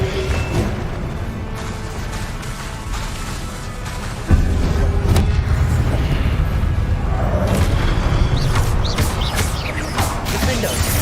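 Hogwarts Legacy combat with the Incendio fire spell: a dense, loud stream of whooshing blasts and booming impacts, with a sharp surge midway and continuing rumbling effects and clatter.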